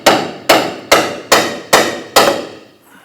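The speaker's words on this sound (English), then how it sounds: "Now I want to go ahead and strike our knuckle here to loosen or separate the ball joint from the knuckle." A hammer strikes the steering knuckle of a 2006–2010 Hummer H3 to break the lower ball joint loose, six loud, evenly spaced metallic whacks ringing close up.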